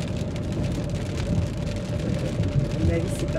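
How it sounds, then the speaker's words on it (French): Steady rain falling in a continuous broadband hiss with low rumbling underneath, holding at an even level throughout. "À mon avis c'est parti pour la pluie pendant un petit moment là."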